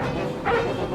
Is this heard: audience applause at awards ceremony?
no